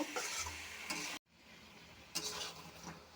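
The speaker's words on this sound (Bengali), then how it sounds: "ভালো করে ভেজে নিয়েছি" Gourd curry of ridge gourd and sponge gourd frying in a pan with turmeric, cumin and coriander powder: close, continuous sizzle with stirring scrapes, a short silent gap, then more stirring.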